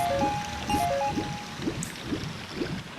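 Flowing stream water in the video game Ocarina of Time, a steady trickling, gurgling wash with soft rhythmic ripples running continuously, alongside bright game music tones.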